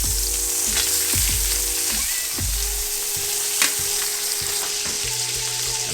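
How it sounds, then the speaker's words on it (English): Steak fries in butter in a pan, a loud close sizzle running throughout with a few scraping stirs and brief bumps. "let it cook away there for a little bit longer in that butter"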